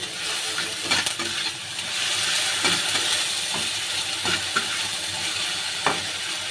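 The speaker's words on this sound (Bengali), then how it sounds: "এবার আমি আদা রসুনটা দিয়ে দেবো। দিয়ে হালকা একটু নেড়ে নেব।" Ginger and garlic frying in a pan with tomato, a steady sizzle broken by repeated sharp metallic scrapes and clinks of a spoon stirring, close and fairly loud, with no talk.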